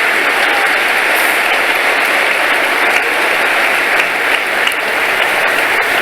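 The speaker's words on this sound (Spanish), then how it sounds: "un fuerte aplauso al Señor" A church congregation gives sustained, loud applause, a dense even wash of clapping that carries on steadily throughout with no break.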